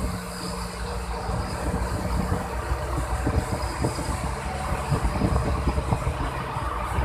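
Diesel engines of fishing boats, including KM. Midun2 and nearby boats gathered on a school of mackerel, drone and throb steadily at sea, a continuous low rumble with rattling pulses.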